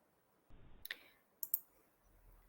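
Quiet, close computer mouse clicks, a few sharp isolated taps over near silence.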